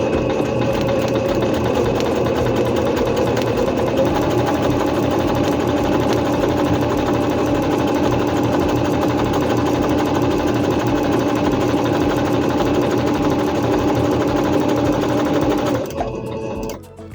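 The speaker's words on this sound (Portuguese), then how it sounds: "Posiciono o tecido na máquina, abaixo a sapatilha e faço 2 costuras paralelas." A Singer C5605 electronic sewing machine stitches two parallel seams through fabric at maximum stitch length, a steady, fast mechanical whir running loud and unbroken for about sixteen seconds before stopping abruptly.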